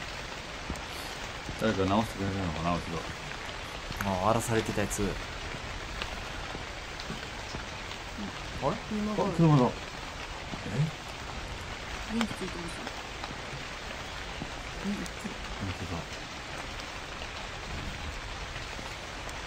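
Heavy, steady rain in the Japanese horror game Yakin Jiken hisses across the whole stretch, with people talking over it throughout.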